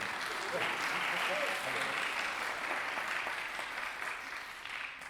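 Children clapping their hands together in steady, dense applause that holds at a fairly even level across the clip, with faint voices mixed in beneath.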